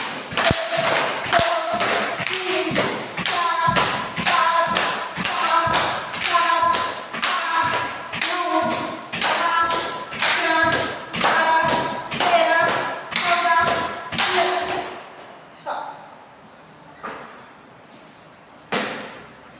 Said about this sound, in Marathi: एक साथ सगळ्यांचा आवाज आला पाहिजे टाळ्यांचा